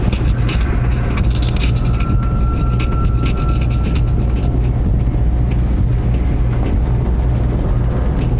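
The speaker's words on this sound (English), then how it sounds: "Probably just the train." Low, steady rumble of a train rolling past in the stealth game Splinter Cell Pandora Tomorrow, a continuous heavy drone with faint mechanical clatter, loud and unbroken throughout with no voices.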